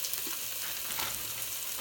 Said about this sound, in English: And now I'm going to add my onion and some garlic.